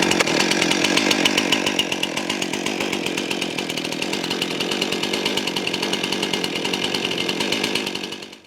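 A Stihl MS 261 chainsaw runs at a rapid, rattling idle close by, steady throughout and cutting off at the very end.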